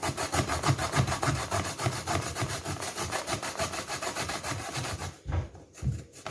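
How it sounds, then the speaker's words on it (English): Coconut being grated by hand beside a coal stove, a steady rhythmic rasping scrape repeated in quick even strokes, loud and close, pausing briefly near the end. "So this is my coconut. I am going to grate it."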